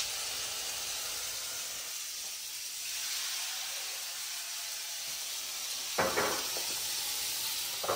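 A little vinegar added to a pan of lightly fried onions for a soya chunks Manchurian, a quiet, steady hiss and sizzle with a brief sharper burst near the end.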